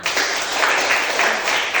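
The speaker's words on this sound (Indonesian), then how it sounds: "Tepuk tangan untuk kita semua." A classroom of students applauds together after a group discussion: a dense, continuous burst of many hands clapping, loud and close, filling the whole stretch without pause.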